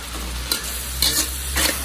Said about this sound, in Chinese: 继续给它翻炒